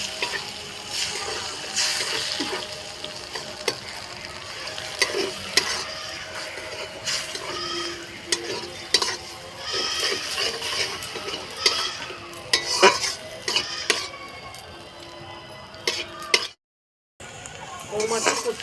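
Prawn hakka noodles being stir-fried in a pan: a spatula scrapes and clinks against the metal in quick irregular strokes over a soft sizzle, close and moderately loud, with a short silent gap near the end.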